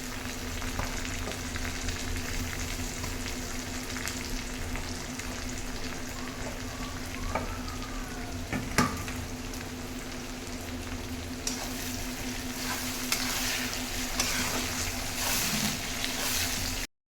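Onion, garlic and ginger paste frying for biryani, a steady crackling sizzle that runs the whole way through, close and fairly loud, with occasional stirring scrapes and no voices.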